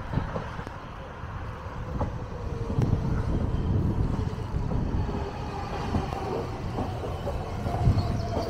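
A train rumbles past in snowy December weather, a low continuous rolling noise with some wind buffeting, steady throughout with no voices.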